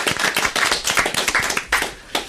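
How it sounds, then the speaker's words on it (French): Studio audience on a French TV show claps in a quick burst, uneven close hand claps rising and falling over two seconds. "Bravo à Mélinda, on peut l'applaudir."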